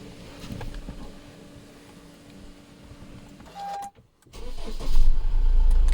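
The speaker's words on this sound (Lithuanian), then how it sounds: "Ir užvesime automobilį." A Honda CR-V is started: a quiet idle hum and faint whine, a short buzzing tone, a brief silence, then the starter catches and the engine rumbles loudly into a steady idle close by.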